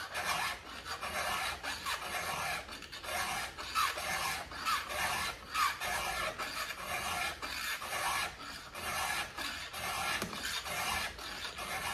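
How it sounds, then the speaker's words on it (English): A hand file drawn across chainsaw teeth while sharpening, giving a rhythmic series of close, raspy metal strokes that repeat steadily with no talking. "You're not gonna know how many strokes it will take to sharpen a tooth."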